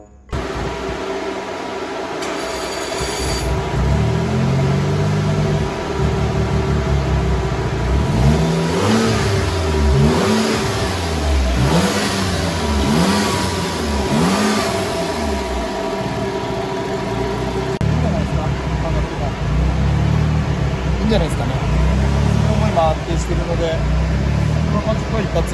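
A fully tuned Suzuki Jimny JB23 engine with a test muffler drones loudly and steadily on a dynamometer, its revs swinging up and down in repeated waves before settling into a sustained high roar.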